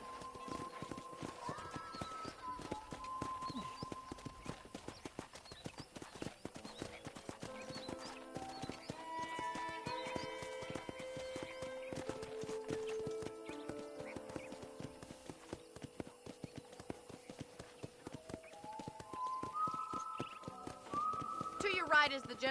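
Horse hooves clip-clopping steadily in the Western video game Red Dead Redemption, a rhythmic walking gait heard throughout under a melodic music score, with people talking over it.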